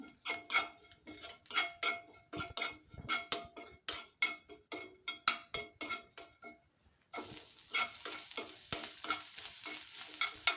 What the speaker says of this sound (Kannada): ಇದಕ್ಕೆ ಕಾಯಿ ಹಾಕ್ಕೊಂಡೆ. ಬಾಣಲಿ ಬಿಸಿಲೇ ಸ್ವಲ್ಪ ಹುರ್ಕೊಳ್ತೀನಿ